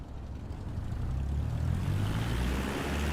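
A Cessna 172 single-engine propeller airplane taxiing, its engine a steady, low droning rumble that builds slightly and holds, heard from inside the cabin without talk.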